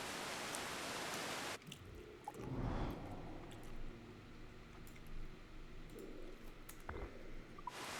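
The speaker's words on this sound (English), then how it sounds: "The sound of waterfall." A waterfall in the video game Assassin's Creed IV Black Flag makes a steady, broad rushing wash of falling water, with a few brief shifts and soft splashes along the way.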